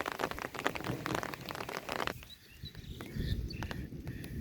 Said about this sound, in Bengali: তো বৃষ্টি নামতেছে আবার আরো।